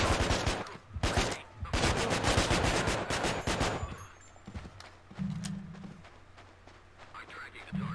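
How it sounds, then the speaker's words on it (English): Assault rifle fire in the video game Manhunt: loud rapid automatic bursts crackle through the first half, then give way to a few isolated shots and quieter thumps and footsteps. "This assault rifle is so fucking satisfying"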